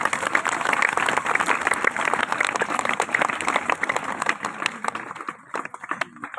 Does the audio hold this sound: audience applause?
yes